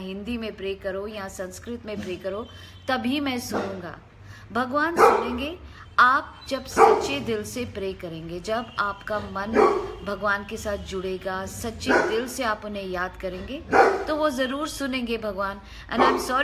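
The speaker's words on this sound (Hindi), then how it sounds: "ये जो भौंकने की आवाज़ आ रही है," Several dogs bark and yip repeatedly nearby while someone talks continuously over the noise, with the barking rising in excited bursts.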